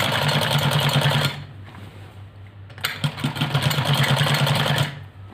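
Sewing machine stitching a ladies' salwar, running in two loud, close bursts of fast rhythmic whirring clatter separated by a quieter pause.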